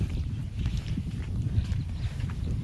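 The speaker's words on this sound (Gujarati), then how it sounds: "આ છે બળદ ગાડું." A bullock cart rolls past in a village, with steady, uneven clopping hooves and rumbling wheels close by across the whole stretch, no voices over it.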